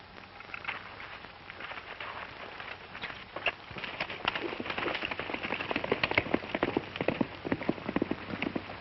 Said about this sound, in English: Say, Stoney, how about using your horse? He's faster than mine.